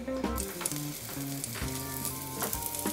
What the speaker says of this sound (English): I always take like 1 piece of onion and throw that in the oil to see when it starts sizzling.